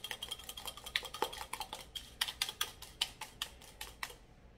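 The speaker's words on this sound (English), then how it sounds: "I'm gonna get a whisk just because I want to really break up those little pieces" A whisk beats cream cheese in a bowl for a Danish pastry, a close series of quick metallic clicks and taps that thin out at the end.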